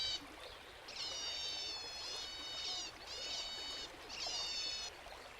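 Giant otters in the flooded Amazon give shrill, squeaky bursts of calls in four or five rhythmic spells, with a soft watery rush and splashing underneath. The whole scene stays faint and distant.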